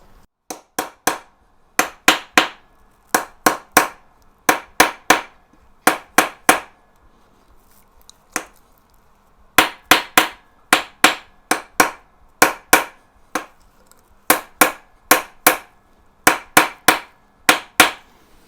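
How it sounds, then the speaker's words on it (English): Sharp metallic hammer strikes driving a bearing onto a two-stroke motorcycle's fork, in quick bursts of three to five blows separated by short pauses, close and loud with no talking. "you can really hear the difference in the hammer sound when it's gone home"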